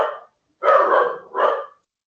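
Dogs bark nearby: a short bark, a pause, then two louder, longer barks in quick succession, heard alone.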